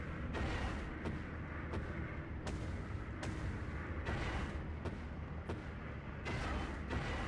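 Tank guns fire repeatedly in the WWII strategy game Steel Division 2, a string of muffled booms about once a second over a steady low rumble of battle noise, somewhat distant and unvoiced.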